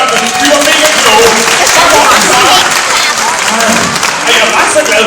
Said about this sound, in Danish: alle voksne klapper lige af børnene